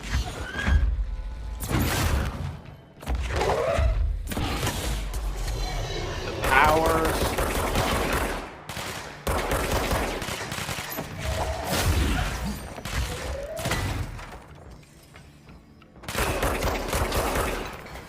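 A player's weapon in the video game Control fires in repeated loud bursts amid crashing impacts and other game sounds, while someone talks over much of the action.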